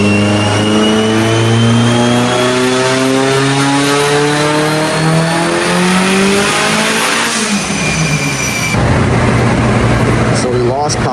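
A built, turbocharged Mitsubishi Evo 8 revs hard on a dyno, the engine note climbing steadily in a long sweeping pull, loud and close, then dropping off before a rougher burst near the end.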